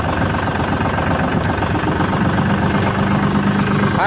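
A Farmtrac 42 Promax tractor engine idles with a steady low diesel rumble and knocking vibration, running continuously at close range.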